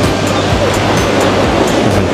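Steady roar of ocean surf on Boracay, with strong waves washing in continuously at close range and no voices.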